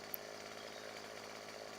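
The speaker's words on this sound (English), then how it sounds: "Now I'm not sure how loud the chainsaw will come out" A chainsaw in the Farming Simulator 17 video game runs at a steady, quiet drone while cutting trees in a logging scene, unbroken and without voices.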